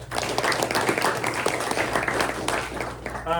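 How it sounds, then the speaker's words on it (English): A luncheon audience applauds steadily for a few seconds, dense clapping at moderate loudness with some murmured voices underneath. "Let's give them a round of applause."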